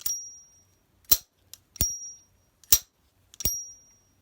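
Several sharp metallic pings from a lighter lid ring out one after another with short pauses, each followed by a faint click, close and clear in a quiet room.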